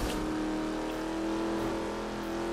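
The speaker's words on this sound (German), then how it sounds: "Mein Lamborghini Aventador." A Lamborghini Aventador's engine in the racing game The Crew holds a steady, loud drone with a sustained tonal hum, cruising without pause and no talk over it.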